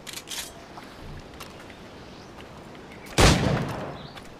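A single loud gunshot aimed at an iguana in Assassin's Creed 4 Black Flag, a sharp crack with a short decaying tail after quiet outdoor ambience.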